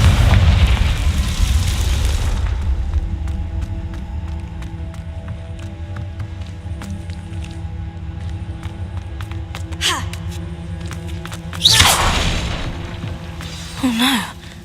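A Confringo spell blast from a Harry Potter video game bursts loud and broadband at the start, then fades into a long rumbling tail with later flaring hits, with no talk.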